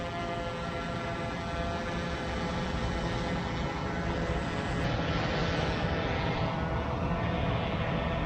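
A DJI Mavic 3 drone hovers and flies overhead, giving a loud, steady, dense propeller whine that holds without a break.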